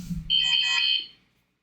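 A phone gives a steady electronic beeping tone for about a second, then goes quiet, with no talk over it.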